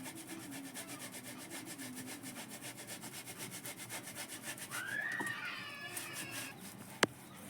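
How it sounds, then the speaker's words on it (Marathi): Three potatoes are grated by hand, making a faint, rapid rhythmic rasping that repeats evenly in a quiet kitchen. A brief squeak is heard midway, and a single sharp tap comes near the end. "आता 3 बटाटे घेतले, हे आपण आता किसून घेणार आहे"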